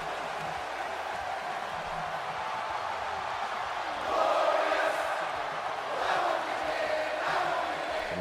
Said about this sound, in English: And you hear from the crowd, they love him and they want Hawkins to suffer.